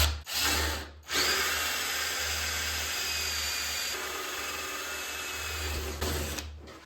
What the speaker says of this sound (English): If I'm using the hole saw, I get it right on my mark.